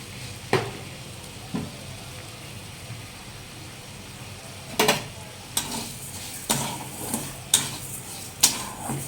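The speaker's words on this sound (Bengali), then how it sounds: "চিনিটা আমি একটু গলিয়ে নেব," Sugar melts over high gas in a pan for egg pudding caramel, with a soft steady hiss under scattered sharp clicks and scrapes of a stirring utensil against the pan, more frequent toward the end.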